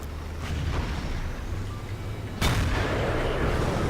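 A T110E5 tank fires its cannon in a video game, giving one sharp, loud report followed by a rumbling tail over a steady bed of engine and battle noise.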